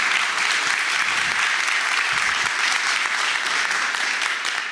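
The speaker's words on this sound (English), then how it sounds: "Let's give another round of applause to our speakers," Audience applause for the speakers Kristin and Dan at a community infrastructure talk, loud, dense and sustained clapping from a sizable crowd throughout.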